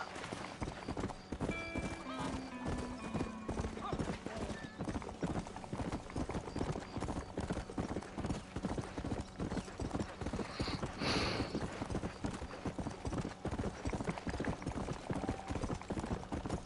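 Steady clip-clop of horse hooves trotting in the Red Dead Redemption video game, continuous and fairly close, with occasional horse whinnies and a voice talking over it.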